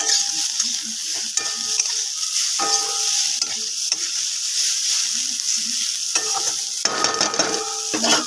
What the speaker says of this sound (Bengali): আমার চিচিঙ্গা ভাজাটা নাড়া দিয়ে নিলাম